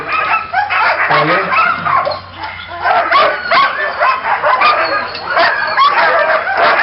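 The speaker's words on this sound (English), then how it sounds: "we're going to have a great photo opportunity as the dogs tear out of the yard" A crowd of sled dogs, huskies in Denali, Alaska, barks, yips and whines excitedly all at once, a continuous noisy chorus with people talking faintly in the mix.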